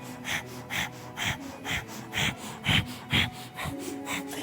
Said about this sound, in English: breath of fire again.